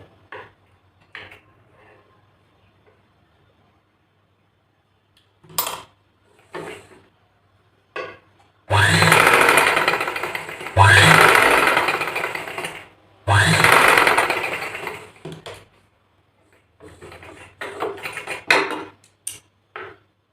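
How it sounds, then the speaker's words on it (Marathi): Sewing machine stitching a strip on the back of a blouse, in several loud close bursts of rapid whirring with small clicks and handling noises between runs. "अशी एक शिलाई आणखी इथून मारून घ्यायची"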